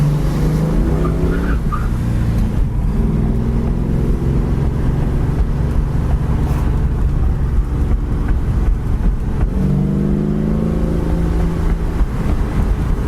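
A 1972 Ford Mustang Mach 1 with a posi rear end drives down the road, its engine giving a steady, loud low rumble with swelling tones as it accelerates and shifts, no talking over it.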